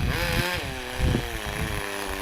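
A vintage Kyosho Sandmaster 1/10 2WD nitro RC buggy at full throttle, its small engine screaming in a high buzzing whine that rises and dips as it races past, fairly distant and alone.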